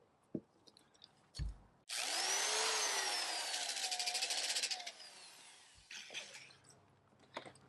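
A powered polishing pad works polishing compound into the headlight of a 2006 Honda Odyssey, giving a loud, steady whirring grind for about three seconds after a few brief knocks, then dropping to quieter handling noises.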